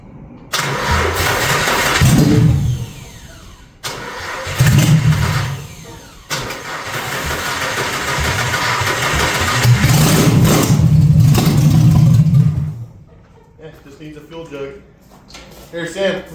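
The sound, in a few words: car engine starting for the first time, then idling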